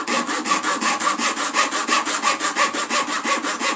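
Rubber is grated off an old tyre in a garage, giving a rapid, even back-and-forth rasping stroke repeated about four times a second, loud and close with no talk over it.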